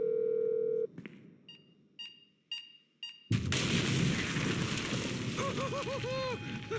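Phone keypad tones from Grand Theft Auto 5: a steady dial tone, then about four evenly spaced beeping key presses, after which loud in-game action noise and music swell up.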